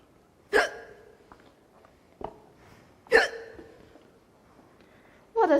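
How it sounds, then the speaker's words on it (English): Three sharp hiccups at a stage play's dialogue scene, spaced a couple of seconds apart, each a short voiced burst with a small catch between, close and fairly loud against a quiet room. "I have the hiccups."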